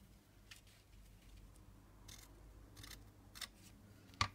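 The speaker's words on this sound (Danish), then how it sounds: "og vi klipper af her." Scissors snipping through lace for a handmade junk journal: a few faint, separate cuts spaced over several seconds, followed by a sharp click at the end, all quiet with no talk.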